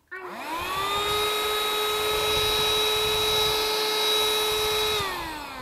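A Han River handheld vacuum cleaner runs on a sofa: its motor spins up into a steady, high-pitched whine that holds for about five seconds, then winds down, close and loud, with no talking.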